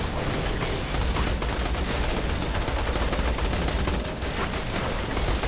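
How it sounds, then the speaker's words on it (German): Rapid, continuous gunfire from a weapon in the video game Borderlands 2, loud and dense with overlapping shots filling the whole stretch without pause. "Was schießt du eigentlich für eine komische Waffe"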